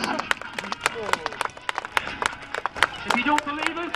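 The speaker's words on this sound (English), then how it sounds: "Round of applause!" Scattered audience clapping at an agricultural show after a motorbike stunt, sharp individual claps in an uneven rhythm, with someone talking and shouting over them close by.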